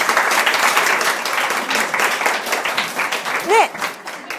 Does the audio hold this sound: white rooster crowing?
no